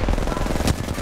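Gunfire in the video game Apex Legends: one rapid, loud burst of automatic shots, tightly spaced and close.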